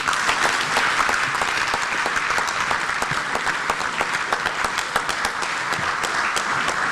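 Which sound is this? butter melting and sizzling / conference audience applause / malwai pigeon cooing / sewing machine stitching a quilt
conference audience applause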